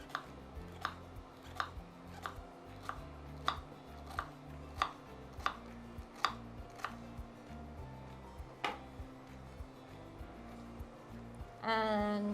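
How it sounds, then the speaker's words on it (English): A knife chops celery finely on a cutting board in a steady run of sharp, evenly spaced taps, close and fairly quiet. A soft hum of kitchen background sits underneath, and a brief clatter comes at the end. "Let's get our celery chopped so that we can put those here."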